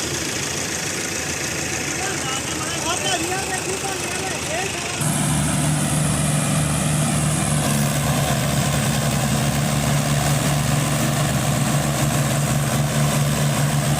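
A 4x4 combine harvester engine works to pull a trolley stuck in a muddy paddy field, running steadily and then roaring louder with a deep sustained drone partway through while people talk.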